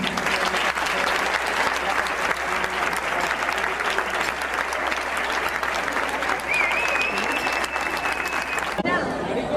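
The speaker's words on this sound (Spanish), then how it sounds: "Bueno, pues para todos un aplauso muy fuerte." An audience claps loudly and continuously for about nine seconds before the applause cuts off abruptly.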